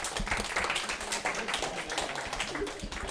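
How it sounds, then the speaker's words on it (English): An audience at a meeting breaks into a round of applause, a dense, continuous patter of many hands clapping close by for a few seconds. "Give him a round of applause."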